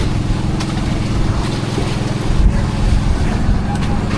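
A small boat on rough sea gives off a constant low rumble and churning water with wind buffeting the microphone, holding loud and steady throughout.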